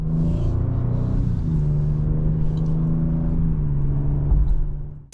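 A 2025 Lincoln Aviator ST engine hums steadily while driving, a resonant, low droning exhaust note heard from the cabin. It stays continuous and fairly loud, with a slight shift in pitch partway through.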